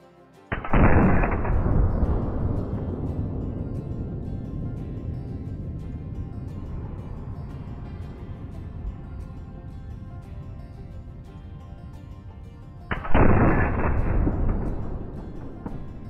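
Two loud, sharp shots from an M1 rifle fired at whitetail deer in the hunting video game Call of the Wild, each followed by a long booming echo that rolls away, the second coming about twelve seconds after the first.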